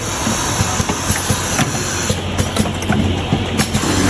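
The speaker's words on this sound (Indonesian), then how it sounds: "kali ini kita mau coba tes mesinnya pakai botol dengan ketinggian di 21 cm" An automatic XGZG-1 bottle capping machine runs a test on 21 cm tall, 3.5 cm wide bottles at about 1000 bottles per hour, giving a steady loud hiss broken by regular sharp clicks and clunks.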